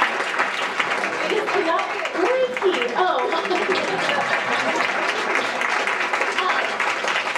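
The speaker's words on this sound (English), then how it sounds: "So if you want to stand up so we can all applaud you." Audience applause for a student senator at a college student-government general assembly, a steady dense wash of clapping throughout, with a few voices speaking over it.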